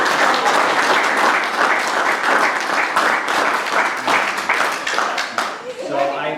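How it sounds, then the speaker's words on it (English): An audience gives a sustained round of applause at a live discussion event, dense clapping that stays loud and steady for several seconds before thinning toward the end. "So I don't know if anybody wants to give him a round of applause"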